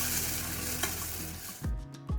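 Ground masala made with Guntur chilli sizzles with curry leaves for obbattu saaru, a loud, close, steady frying hiss broken near the end by a few scraping stirs.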